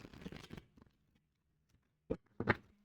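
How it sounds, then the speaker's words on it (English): Tarot cards being shuffled by hand, a deck with French-titled cards, giving a quiet cluster of papery riffles followed after a pause by two sharper snaps of cards, close and soft with no talk. "One more shuffle."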